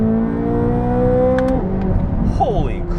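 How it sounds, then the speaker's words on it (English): A 2023 Corvette Z06 engine with a dual-clutch gearbox hums steadily, then drops in pitch and blips sharply upward as it downshifts, with the revs rising and falling close by. "One more downshift."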